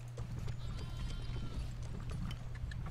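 Horse archers' hooves clip-clop steadily in the medieval strategy game Stronghold Crusader 2, a continuous moderately loud trotting patter with faint mechanical clatter and an occasional whinny beneath.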